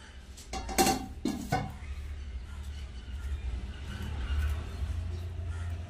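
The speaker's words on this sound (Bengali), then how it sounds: "একটা একটা করে কলা পাতা তুলছি।" A lid is lifted off a pan of steamed prawns wrapped in banana leaves, giving a few close metallic clinks and clatters, followed by soft rustling and low kitchen hum.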